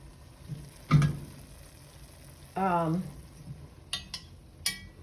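Ground beef browning in a pan for Jeske dip, with a low background sizzle and several sharp utensil scrapes and clinks against the pan, heard close up.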